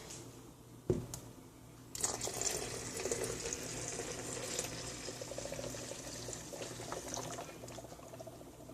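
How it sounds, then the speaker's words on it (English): Hot water pours steadily into a container after a brief knock, a continuous splashing gush that stays moderately loud for several seconds, while making homemade laundry detergent. "We're gonna dump the hot water in."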